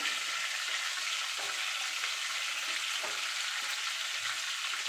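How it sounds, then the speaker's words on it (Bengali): Bay leaves frying in hot oil for a tempering, a soft, steady high sizzle close by with a few faint stirring knocks, no talking. "আমি এই তেলে বাকি রান্নাটা করবো তার জন্য ফোড়নে দিয়ে দেবো দুটো তেজপাতা"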